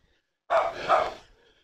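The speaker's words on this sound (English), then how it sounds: "I can hear a doggy chatting." A single nearby dog barks, one short double bark outdoors beside a church in Long Melford, Suffolk.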